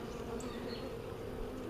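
Honeybees buzz during a hive inspection, a dense, steady low hum of many insects very close up, with a sudden louder rush at the very end.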